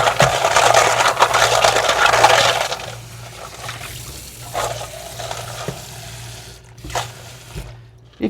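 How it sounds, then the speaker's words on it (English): Clams being rinsed in a bowl with cold water give a loud splashing, stirring wash for about three seconds, then softer intermittent sloshes and shell clinks with a steady low hum underneath. "I'm gonna just wash them really nice with some cold water."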